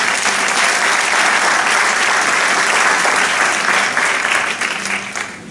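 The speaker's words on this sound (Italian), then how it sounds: "Quindi un applauso ancora più bello." An audience of catechists and educators from the diocese of Imola applauds at a church gathering, loud, close, dense clapping that continues evenly and thins slightly toward the end.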